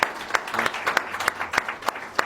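Warm applause from a gathered audience at a certificate presentation for a children's aid charity fundraiser, a steady patter of many hands with sharper individual claps standing out, close and moderately loud.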